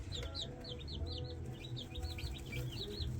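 Meat chickens cluck and peep repeatedly in quick, high chirps over a low background rumble, fairly close and steady.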